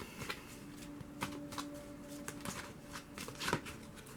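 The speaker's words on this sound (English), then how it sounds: "I'm just going to start shuffling and picking them at random here" Tarot cards shuffled by hand in a steady run of crisp riffling bursts and soft slaps, close and fairly quiet, with no voices.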